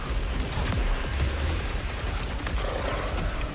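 Sustained rattling fire from video game turrets, loud and steady throughout, with rapid shots blending into a continuous low, dense barrage.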